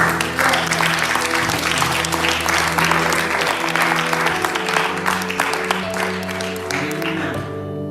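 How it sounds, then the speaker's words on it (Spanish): Church congregation applauding during a worship service, loud dense clapping filling the room with a sustained musical tone underneath, fading slightly toward the end. "Den un aplauso, Señor, hermano."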